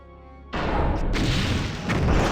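A torpedo fires from the forward tubes of a starship in Star Trek Bridge Commander: a sudden loud booming launch that swells into a sustained rushing roar after a quiet hum.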